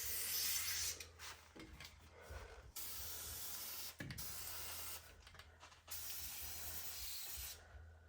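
Aerosol spray can hissing in a series of long, steady bursts separated by short pauses, close and fairly loud, while working on a Ford F150 to fix a noise.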